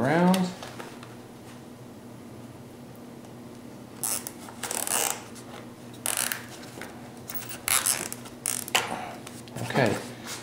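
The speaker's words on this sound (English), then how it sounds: "we're going to put this cable all around here and strap everything together" A cable is pulled and strapped around a StreetStrider Summit 8r / Sprinter 3r packed for shipping. Bursts of scraping, rustling and creaking mechanical noise come up close, with a brief voice-like sound at the start.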